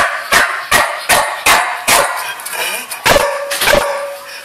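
A dog barks repeatedly, about eight sharp, loud barks in a steady rhythm close by, with a faint whine between some barks.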